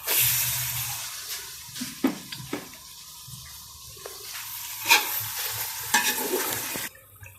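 Chicken sautéing in a pot with bay leaves as it is stirred, with a soft background sizzle broken by intermittent scraping and clattering strokes from the spoon.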